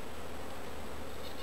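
A soft, continuous drone of many honey bees rises from an opened hive in mid-summer, low in level and unbroken by talk.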